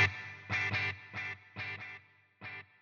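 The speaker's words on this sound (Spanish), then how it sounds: "Si se dan cuenta, un delay está a la derecha y otro a la izquierda." Distorted electric guitar runs through a stereo dual delay on a Line 6 Helix with a little reverb, playing short chord stabs in a galloping rhythm, each echoed quickly and cutting off cleanly between groups.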